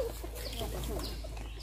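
Bantam chickens and a rooster cluck quietly in the grounds of a Thai temple, a few soft, scattered calls over steady ambient noise.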